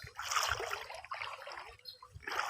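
Water trickles and gurgles in bursts, swelling and fading a few times over a low rumble, moderately close with no talking.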